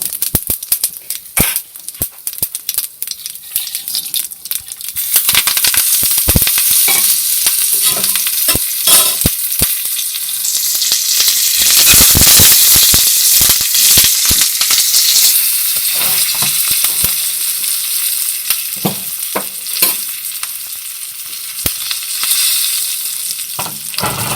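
Loud, steady sizzling of onions frying in hot oil after mustard seeds and dried red chillies, with occasional scraping and stirring clatter and a swell of hissing midway; no talking.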